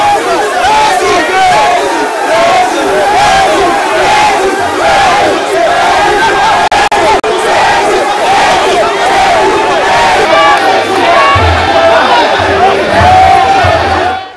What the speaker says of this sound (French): foule compacte et enthousiaste l'a chaleureusement ovationné